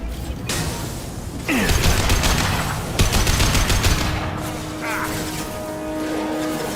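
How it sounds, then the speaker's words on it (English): Blue Suns and Eclipse mercenaries trading gunfire in Mass Effect, dense bursts of rapid automatic shots and crashing impacts rolling on for several seconds, loud and close, with mechanical clanks between volleys. "Blue Suns and Orcha shooting anything that moves"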